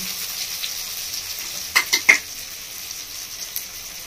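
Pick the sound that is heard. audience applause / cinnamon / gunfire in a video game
cinnamon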